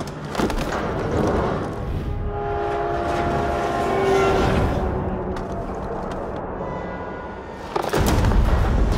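A train rumbles past in a CrossFireX combat scene, a loud, continuous heavy roar with horn-like tones that builds and swells over several seconds amid battle noise, then a fresh loud burst near the end.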